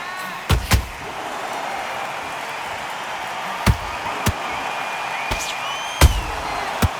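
Punches land in the Undisputed boxing video game as sharp, separate thuds, two close together and then scattered single hits, over a steady arena crowd murmur.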